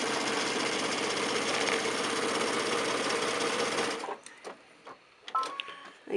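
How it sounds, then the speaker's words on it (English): A sewing machine stitches a quilt block seam, joining light fabric to dark with a folded piece between, running steadily and loudly for about four seconds before stopping, followed by faint handling clicks. "So I'm going to just sew this light to the dark with this folded piece in between."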